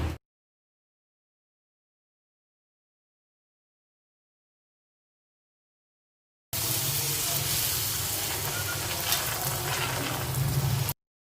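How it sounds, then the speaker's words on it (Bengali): Padma luchi fry in a karahi of ghee and white oil on a gas stove. After a long silence, a loud, steady sizzling hiss starts abruptly and runs for about four seconds before cutting off. "এবারে আমি পদ্ম লুচিগুলো ভেজে নেব।"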